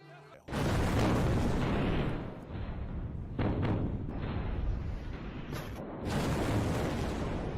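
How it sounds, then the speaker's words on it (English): A huge explosion erupts suddenly after a brief quiet, a loud broadband roar that stays sustained and rumbling and surges again near the end, with faint voices beneath. "I see a very huge explosion."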